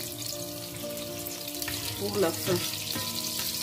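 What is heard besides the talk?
onions frying in oil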